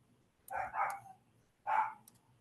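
A male house dog barks in the background indoors: a quick double bark, a pause, then one more, moderately loud against a quiet room.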